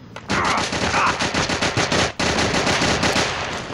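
Rapid automatic gunfire from a video game shooter, loud and continuous in dense bursts with a brief break near the middle, close and unaccompanied by talk.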